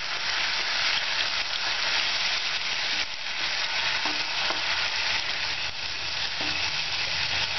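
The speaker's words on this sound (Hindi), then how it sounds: "इसके बाद में डालेंगे ये प्याज की पेस्ट। और इसको भून लेंगे।" Onion paste frying in a pan for methi malai matar, giving a steady loud sizzle throughout with occasional stirring scrapes, close and without talk.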